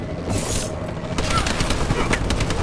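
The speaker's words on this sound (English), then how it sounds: "Enemy bombing run overhead." An enemy bombing run in Call of Duty: Advanced Warfare multiplayer brings dense rapid gunfire and blasts that rattle continuously, loud and close, with a brief game announcer voice in the mix.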